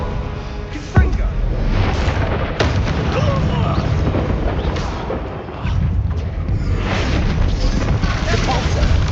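Confringo blasting spell explosions in Hogwarts Legacy, sharp booming blasts at intervals over continuous loud game combat noise, with a person talking through it.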